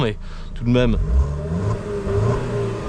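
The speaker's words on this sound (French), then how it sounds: "le son moteur est assez insignifiant" A 2.0-litre-class petrol engine, the 1.9 JTS in an Alfa Romeo 159, hums at moderate revs in a steady mid-range drone, with someone talking over it throughout.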